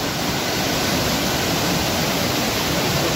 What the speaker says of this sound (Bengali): জলের আওয়াজটাও পাচ্ছ তোমরা বন্ধুরা আশা করি।